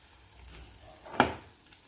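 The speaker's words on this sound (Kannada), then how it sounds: "ಈಗ ಫ್ರೈ ಮಾಡಿರುವ ಮೀನನ್ನು ಹಾಕಿ ಎರಡು ಬದಿಗೆ ಮಸಾಲೆ ಕೋಟ್ ಆಗೋ ಹಾಗೆ ಹಾಕಿ ಒಂದು 2 ನಿಮಿಷ ಬೇಯಿಸಬೇಕು" Fried fish frying in masala in a pan gives a faint background hiss with one brief, louder sizzling burst in the middle.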